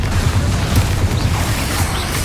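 A fiery Confringo spell bursting in the Hogwarts Legacy video game, heard as a loud, close, deep booming rumble with dense crackling noise that runs steadily for about two seconds, with no voices over it.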